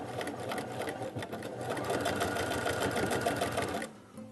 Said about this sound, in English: You're just going to use a basic straight stitch, and you're just going to sew diagonally across.